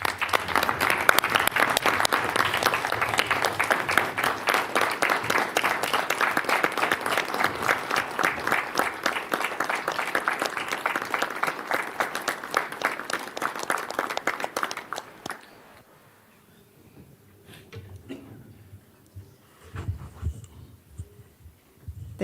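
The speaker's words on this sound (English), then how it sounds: "Can we give Michael Moreno a round of applause" Attendees at a transit board meeting give a long round of applause, many hands clapping in a steady, rhythmic patter for about fifteen seconds before it fades into quiet room noise with a few faint knocks.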